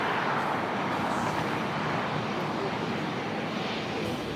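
A NetJets Bombardier Global 5500 business jet arrives at Los Angeles International Airport, its engines producing a steady, broadband roar that holds at a fairly constant level throughout, with no talk over it.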